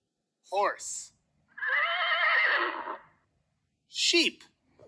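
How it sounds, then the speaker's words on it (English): Three whinnying horse neighs, close and loud: a short squeal, then a long quavering neigh, then another short one, each separated by silence. "Horse."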